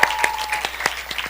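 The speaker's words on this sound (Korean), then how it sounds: "우리 허브 찬양팀을 위해서 다시 한번 큰 격려의 박수를," A church congregation claps for the young adults' praise team, a brief burst of scattered, close handclaps with a few distinct sharp strikes over a quiet hall.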